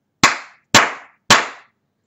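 Hands clap three times, sharp and evenly spaced, each slap dry and close with a short decay into silence.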